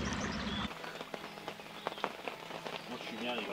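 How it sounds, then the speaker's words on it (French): Rain pattering on surfaces during a catfish fishing outing outdoors, a dense, fairly close patter with scattered sharper drop hits across the few seconds. "il s'est mis à pleuvoir"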